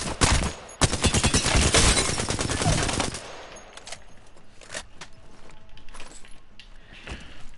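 The Alternator submachine gun in Apex Legends empties a full magazine in one rapid, loud stream of shots lasting about three seconds, followed by quieter mechanical clicks and scattered small game sounds.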